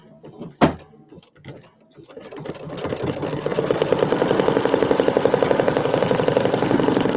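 A sewing machine stitching glitter fabric with matching thread, starting after a few knocks and a sharp thump, then settling into a steady, loud, rapid mechanical buzz of the needle running continuously.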